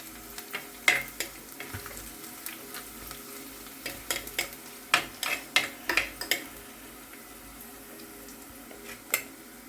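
Fish curry ingredients fry and sizzle in a pan as they brown, with soft stirring scrapes and clicks coming in irregular bursts at a fairly quiet, close level, and no talking.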